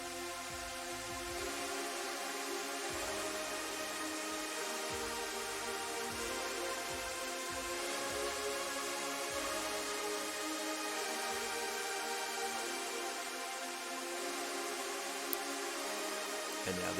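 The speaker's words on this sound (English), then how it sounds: "The main pads are not filtered anymore, so they sound like this." Big unfiltered saw-type synth pads from a festival trap song sustain wide and dense, with a steady pulsing low end underneath for the whole stretch and no voices.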